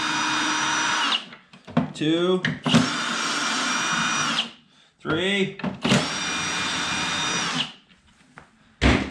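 A low-battery cordless drill fitted with an 8mm socket works on a Toro CCR2450 snowblower during a spark plug change, whirring in two long, loud bursts with short pauses, while a man counts briefly between them.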